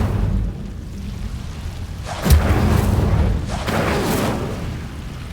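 An Incendio fire spell in a Harry Potter video game goes off with a sudden booming whoosh, followed by a second roaring surge of flame a moment later over a steady low rumble, fairly loud and close.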